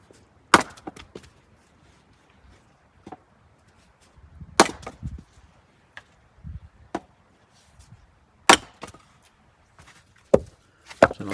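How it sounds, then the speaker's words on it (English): A Fiskars X27 splitting axe swung one-handed into a log round, giving several sharp, loud wooden chops spaced a few seconds apart, with quieter knocks and shuffling between strikes. "Use the axe to pick up the round again, and switch to a one-handed hatchet technique."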